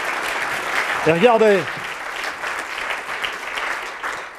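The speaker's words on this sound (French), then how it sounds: "maintenant vous applaudir d'abord" Audience applause fills the whole stretch as a steady dense patter, with a voice speaking briefly over it partway through.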